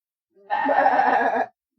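A human voice imitates a billy goat's bleat with one sustained, wavering nasal call about a second long, loud and close with no other sound around it.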